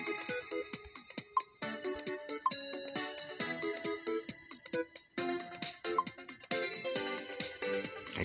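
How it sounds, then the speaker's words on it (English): A phone ringtone chimes in a dress-up video game, a bright melodic pattern of repeating tones playing on its own, moderately loud, with no talking. "I think that's her phone."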